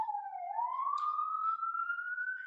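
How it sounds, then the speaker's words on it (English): A single city siren from an emergency vehicle in Brooklyn wails steadily and rises slowly in pitch, moderately loud and heard alone without talk. "Sirens, not kidding you, Brooklyn."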